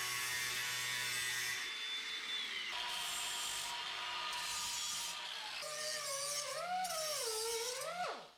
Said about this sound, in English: I've just marked my bit that I've got to cut off of there, so I'll just get that zipped out of there.